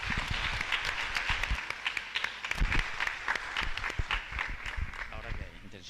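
Applause from a congregation at Mass in Parroquia Cristo Solidario, Asunción, a steady mass of clapping hands lasting several seconds at moderate loudness before it fades out.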